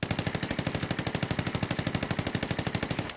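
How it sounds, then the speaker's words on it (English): Loud automatic gunfire from Ghost Recon Wildlands, a fast, even stream of shots held for about three seconds before stopping, with no voices over it. "Alright, so I'm gonna shoot, and you're gonna see the vertical recoil."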